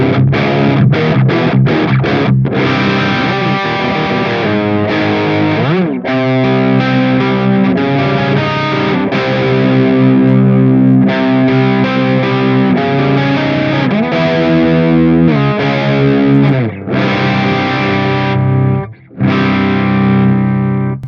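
A heavily distorted electric guitar plays through a Mesa Rectifier recording preamp with the booster engaged, loud and sustained, with chugging chords and ringing held notes and only brief gaps.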